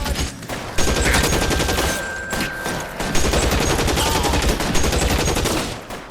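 Sustained video-game gunfire in a house shootout, with dense automatic bursts and rapid overlapping shots filling the clip at close range, broken only by a few brief gaps.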